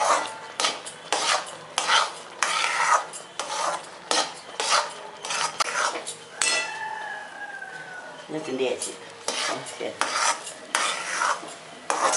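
Rava kesari stirred in a pan, a rhythmic series of loud scraping and rasping strokes of a spoon against metal, close up, with a few brief knocks and a voice speaking between strokes.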